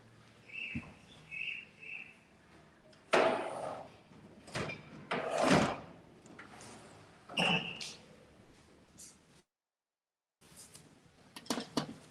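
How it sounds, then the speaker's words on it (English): An indoor door is pushed shut, with a series of bumps, clicks and a couple of louder knocks and thuds, followed by a brief silence and a few more faint clicks. "there is some noise there, so that's why I just want to close the door"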